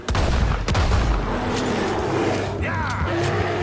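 A gun fires at a bear in a video game, with a sharp report at the start and a second crack soon after, then loud, dense game action and voices continuing underneath.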